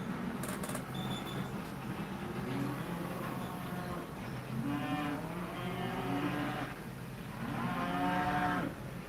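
Several cows moo in overlapping calls, some near and loud, others farther off, with a steady rumble of background noise underneath.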